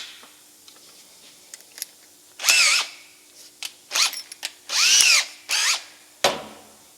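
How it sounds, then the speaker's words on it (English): A power drill with a 3/16 bit, used on a neglected Ariens machine, whirs in several short bursts of differing length separated by quiet pauses and small clicks, close and loud. "So I get a 3/16 drill bit."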